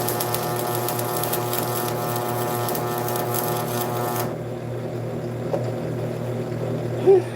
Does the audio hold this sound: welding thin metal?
yes